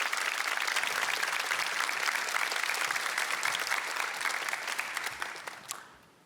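Studio audience at a televised Korean lecture program clapping in a loud, even burst that holds steadily, then fades out over the final second.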